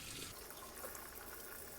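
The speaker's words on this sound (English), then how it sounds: "Get all those seeds, wash off any dirt, anything that might still be on there." Tap water runs in a steady broadband gush while bell peppers are washed and cleaned of seeds, continuous and fairly close with no talking.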